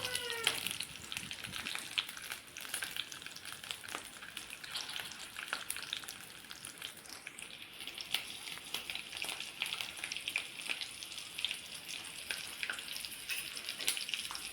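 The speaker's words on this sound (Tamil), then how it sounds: "அதுக்கப்புறம் வெங்காயம், பச்சை மிளகாய், இஞ்சி, பூண்டு இதையெல்லாம் போட்டு நல்லா வணக்கிக்கோங்க" Onion, green chili, ginger and garlic sauté in hot oil for a paneer gravy, giving a steady, quiet, continuous crackling sizzle with occasional stirring scrapes.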